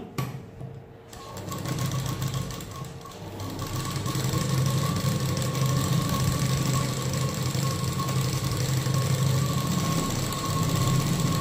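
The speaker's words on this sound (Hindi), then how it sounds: "ये देखो कैसे चला रहा मैं सिलाई।" Sewing machine stitching a prince-cut blouse, starting after a short pause and then running in a steady, loud, rapid mechanical whirr with a rhythmic knocking hum, close by and uninterrupted.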